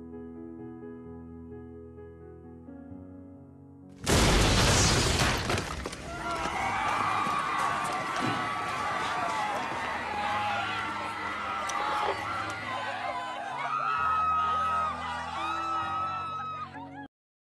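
A sudden loud crash gives way to long, wavering, high-pitched screams that rise and fall for several seconds in a French creepypasta horror story narration, loud and sustained with no clear speech.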